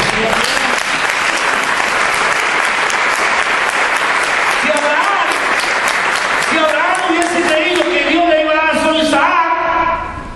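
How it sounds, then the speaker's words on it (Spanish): Loud congregational applause during a prophetic vigil service, continuous dense clapping filling the space, with a voice speaking over it in the latter half. "Dar un aplauso al Señor"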